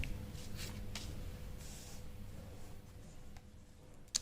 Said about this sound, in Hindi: तो यहाँ मैं लिख देता हूँ